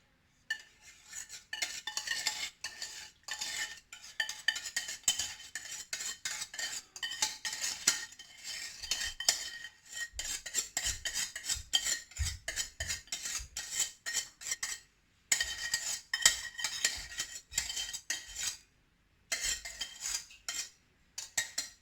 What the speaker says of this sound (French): je vais venir avec la béchamel. Je vais en mettre partout